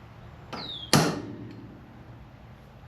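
A single sharp metallic strike of a hammer on a center punch against a bolt on a 1950s Ford 8N tractor rings out, with a lighter tap just before it and a brief ringing decay afterward.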